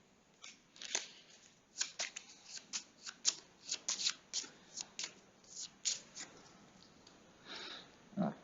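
Cards for a tabletop wargame being shuffled by hand, a run of soft crisp riffles and slaps in an irregular rhythm, close and fairly quiet with no talk.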